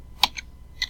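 A few quick keystrokes on a computer keyboard, three or four light clicks close by within one second, with no talking.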